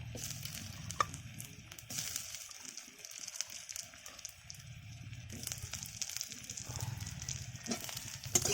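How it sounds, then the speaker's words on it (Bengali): Fried potato pieces go into a pan with fried onions and sizzle in the oil, a low crackling hiss broken by scraping stirs and small knocks, with no talk. "এবারে আমি আলু ভাজাগুলো দিয়ে দেবো।"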